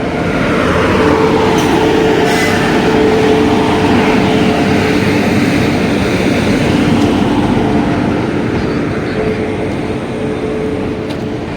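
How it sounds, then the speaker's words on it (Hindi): A train pulls into a deserted station platform with a loud, sustained rumble and roar that fills the whole stretch and eases off slightly toward the end. "और फाइनली अब ट्रेन आ गई है मेरी"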